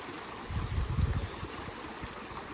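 Steady rushing stream water in the Konkan countryside, swollen by the first monsoon rain, with deeper gurgling surges swelling near the start, then a constant close wash of flow.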